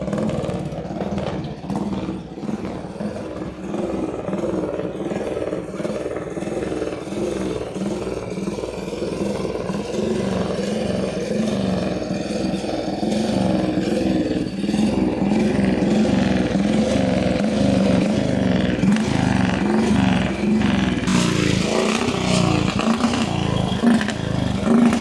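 A 1933 motorcycle engine runs steadily and close by for the whole stretch, its rapid low thumping beat holding even with a slight rise in intensity toward the end, and no voices over it.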